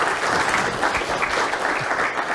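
A brief burst of dense, even applause from an audience welcoming Dr. Bourne before a talk on artificial intelligence and democratic capitalism; loud clapping throughout, without speech.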